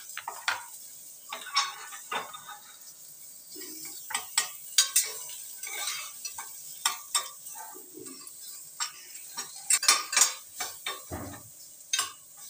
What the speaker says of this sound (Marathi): मग कांदा उभा चिरून घेतला, एक कांदा, आणि तो पण फ्राय करून घ्यायचा आहे त्यातच.